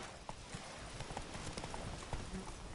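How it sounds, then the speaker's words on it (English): A horse's hooves clip-clop steadily in a video game, a quick, even trot heard at a low level beneath faint background sound. "Come on, Roach"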